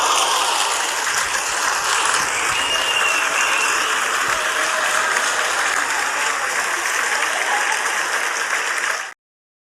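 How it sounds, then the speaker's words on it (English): Steady audience applause fills a podcast show, a dense wash of clapping that holds at even loudness for about nine seconds before cutting off abruptly. "clap it up one time for the gatekeeper himself"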